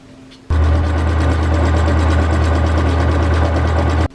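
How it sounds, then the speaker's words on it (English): A sewing machine runs a straight stitch along the folded half-inch hem of shorts made from a men's shirt, a close, steady motorised whirr with fast rhythmic needle ticking that starts abruptly and holds for several seconds before stopping. "We're going to hold it down 1/2 inch and then sew it down with a straight stitch"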